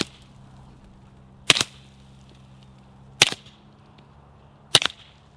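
Three sharp suppressed pistol shots from a Remington R1 Enhanced with a threaded barrel and silencer, evenly spaced about a second and a half apart, each a crisp crack with a short decaying tail over faint background hum.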